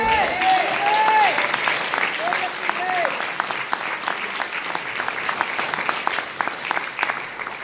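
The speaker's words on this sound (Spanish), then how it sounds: "Denle fuerte la aplauso" A church congregation applauds during a Spanish-language sermon, close, lively clapping with distinct individual claps and a few shouts or voices early on, continuing unevenly throughout.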